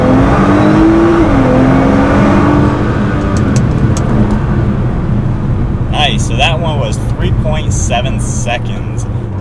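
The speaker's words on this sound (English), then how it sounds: "I'm going to give it just a little bit less gas and do another one." A tuned Nissan GT-R roars loudly through a hard launch, engine note rising steadily for a few seconds before settling into a sustained drone, with people talking over it in the second half.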